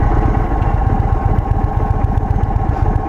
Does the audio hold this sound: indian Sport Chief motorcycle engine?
yes